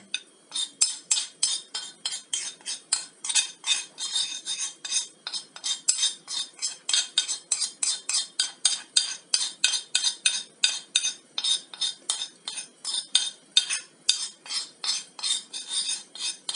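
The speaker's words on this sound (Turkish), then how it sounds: "Açık kahverengiye dönüşene kadar iyice karıştırın." A utensil is stirred steadily through cocoa soufflé batter in a bowl, scraping and clinking against the sides in a fast, regular rhythm of dense strokes, close and clear with no talking.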